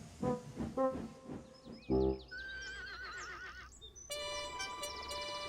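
A cartoon horse neighs loudly, then a whistle shrieks and wavering tones follow as music plays, the whinny clear and close near the start.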